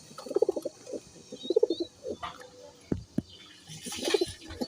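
Pigeons cooing nearby in repeated soft throaty bursts, a few rhythmic coos spaced across the clip with light rustling and clicks between them.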